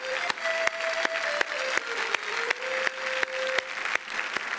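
Studio audience applause on a comedy and poetry television show, sustained clapping with sharp regular beats about every third of a second over a steady crowd wash, with a tonal musical note running underneath.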